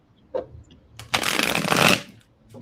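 A deck of playing cards is shuffled close up, a long dense riffle of rapid flutter with a few brief card taps before it and nothing spoken.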